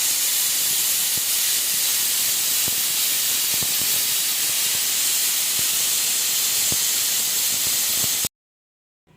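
A pressure cooker hisses loudly and steadily as steam escapes, cooking a sprouted mixed-gram sambar, with faint clicks beneath the broadband rush before it cuts off abruptly near the end.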